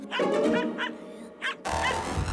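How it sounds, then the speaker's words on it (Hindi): A cartoon dog barks in a children's animated show, several close, yappy barks and whimpering yips over a music bed. "ये डॉगी इतना भौंक क्यों रहा है?"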